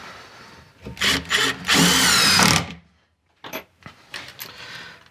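A power drill drives screws through pre-drilled holes into wood while building I-beam sawhorses, giving several short bursts and one longer whining run, loud and close, with brief pauses between.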